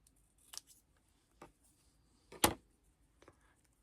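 Scissors snip through a paper scrapbooking label in a few crisp, close cuts, with one louder snip in the middle and quiet pauses between them.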